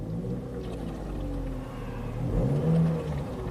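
A Chevy Captiva engine idles low and steady, then its pitch and loudness swell as it revs up briefly before settling back, heard close up; the vehicle nearly stalls under load.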